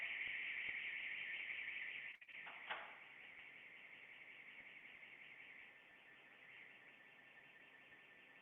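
A door security alarm sounds as a steady, piercing electronic tone that holds through the whole stretch, briefly interrupted by a dull clunk near the middle before it continues slightly quieter.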